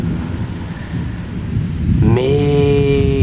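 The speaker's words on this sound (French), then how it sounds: "Là du coup l'orage est en train de s'éloigner vers le nord, hein. Il est toujours très puissant." Thunderstorm over Bordeaux with heavy, steady rain and a loud, rolling thunder rumble that swells and sustains toward the end, no voices.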